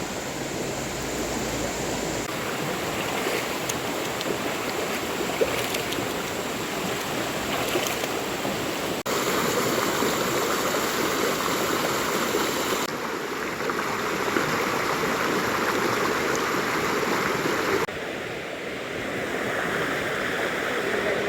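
Steady rushing water flows continuously, a broad dense wash of sound close by with no voices, like a river running over rocks.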